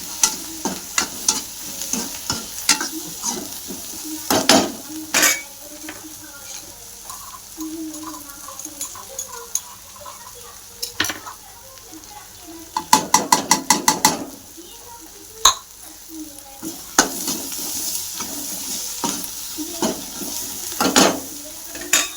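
Onion, green chili and garlic frying and being stirred in a pan, with steady sizzling broken by repeated scraping and clattering stirs, including a quick rattling burst midway.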